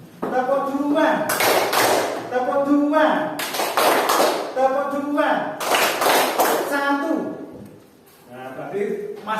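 A classroom of pupils clapping hands in a teacher-led clapping game, with loud bursts of sharp claps in bouts of two or three; a teacher's voice calls out between and over the clapping.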